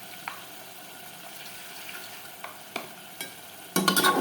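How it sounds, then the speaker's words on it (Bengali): Mutton being stir-fried in a pan at home, with quiet intermittent scrapes and stirring clinks over a faint sizzle, then a louder burst of sizzling and clatter near the end. "এটা এখন ভালো করে কষাবো"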